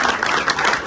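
Dense applause from an audience at a business gathering, a steady wash of many hands clapping close and loud for the whole second with no break.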